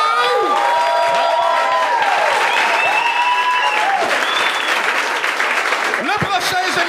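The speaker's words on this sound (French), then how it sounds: "Un tonnerre d'applaudissements pour Benji!" A comedy show audience breaks into loud, sustained applause for a comedian, with cheers and whoops over the clapping and whistles and voices rising through the crowd.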